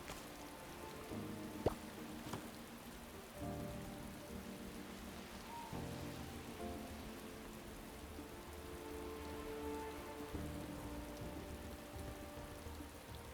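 Steady rain falls in the Paleo Pines farming game, a constant soft patter and hiss that runs the whole time beneath gentle background music, with no talking.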